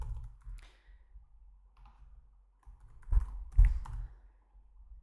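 Keys tapped on a computer keyboard while filling in AutoCAD attribute fields, a few soft scattered clicks with two louder bursts of typing near the end, close by in a quiet room.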